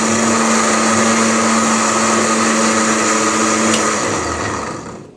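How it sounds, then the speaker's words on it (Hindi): An electric blender grinds mango and sugar for a lassi, a loud steady high whirring motor that runs continuously for several seconds, then spins down and fades out at the end. "ये देखिए, मैं इसे बारीक पीसूँ।"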